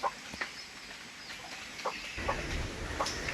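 A few scattered soft clucks from chickens nearby in a small backyard enclosure, over a quiet background, with occasional brief rustling.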